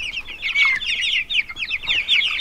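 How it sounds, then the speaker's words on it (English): Young Cornish cross meat chickens chirp and cluck in a close, busy chorus, a dense overlapping run of short bright calls with no talking. "my very, very first time raising Cornish crosses"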